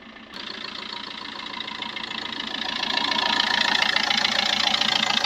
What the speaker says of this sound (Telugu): ఇంజన్ బీటింగ్ బాగుంది